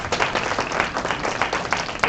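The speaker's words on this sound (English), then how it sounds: "If we can get a round of applause for these guys." A crowd at a church live-streamed service applauds children who have just sung, producing dense, lively clapping that fills the whole short stretch at close range.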